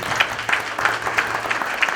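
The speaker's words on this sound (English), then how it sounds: "So if we could give him a round of applause, that would be great." A small audience at a school board of education meeting gives a brief round of clapping for a student athlete, scattered claps close by with no talk.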